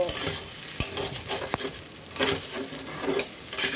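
Broken wheat (daliya) stirred and dry-frying in a pan, a steady scraping stir with soft sizzle and occasional sharp spoon knocks against the pan, close and alone without voices.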